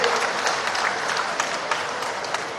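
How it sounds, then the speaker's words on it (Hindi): A seated crowd at a rural development event in Dhar claps to welcome the rural development and agriculture minister. The clapping is dense and sustained, with scattered sharper claps standing out. "एक बार दोनों हाथों को उठा के ताली बजा के उनका स्वागत कीजिए"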